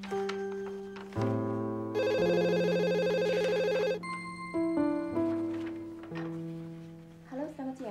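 Telephone rings out with a melodic electronic tone in repeating phrases, loud and close, while a voice talks over part of it.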